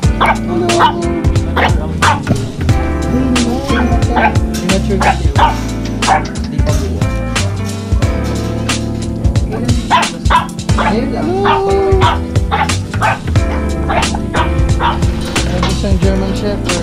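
Several dogs, including a Boston Terrier and a German Shepherd, bark loudly and repeatedly at a home in Sorsogon, with yips and whimpers mixed in and people talking throughout.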